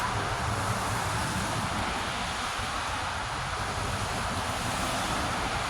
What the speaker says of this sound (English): As the traffic goes by, you can hear the traffic in the background